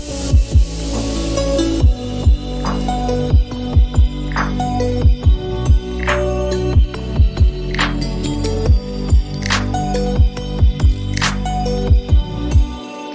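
Future bass breakdown from an Ableton project: rhythmic chopped synth chords under a steady low bass, with regular pitch-swept drops roughly every half second and brighter sweeping accents every couple of seconds, loud and continuous.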